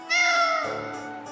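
One drawn-out cat meow from the video game Tales of Vesperia: Definitive Edition, loud and close, bending downward in pitch partway through before trailing off.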